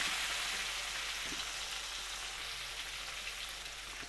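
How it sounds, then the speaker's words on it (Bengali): Chopped onion and tomato fry in hot oil with a steady, hissing sizzle that slowly fades slightly, close up, with no voices. "আমি এবার পেঁয়াজ আর টমেটো কুচিটা দিয়ে দিলাম, হালকা করে লালচে করে ভেজে নেবো"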